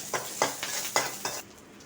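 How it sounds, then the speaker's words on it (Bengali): Curry leaves fry in oil in a pan, and the close sizzle is broken by about five rhythmic bursts of stirring before it quiets near the end. "কারি পাতাটা ভাজা হয়ে গেছে"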